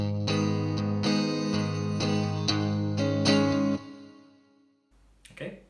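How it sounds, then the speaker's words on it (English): Electric guitar strumming chords from a song: a series of rhythmic strums ringing close and full before the last chord cuts off and fades, with a brief soft noise after. "So to start with, it's just a few strums like so."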